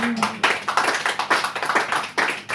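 A church congregation clapping together in a quick, even rhythm, loud and close, with a brief voice at the very start.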